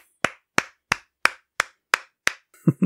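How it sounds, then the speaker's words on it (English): A podcast host claps seven sharp, evenly spaced times, close and loud with silence between each, then a brief burst of speech follows. "Sorry, I had to clap"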